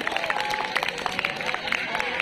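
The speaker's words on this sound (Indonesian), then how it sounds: "Tepuk tangan dong buat Tegar" Students in a school hall applaud a classmate named Tegar, a dense patter of many hands clapping at moderate distance with crowd murmur and chatter mixed in throughout.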